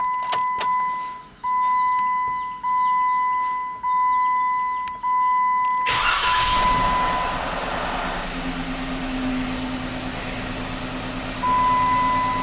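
A 2017 Jeep Wrangler with a misfire starts up after a chime and warning beeps, then settles into a loud, steady close idle.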